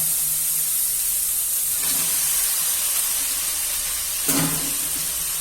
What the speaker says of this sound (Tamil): கீரையை கொட்டி நல்லா ஒரு வதக்குங்க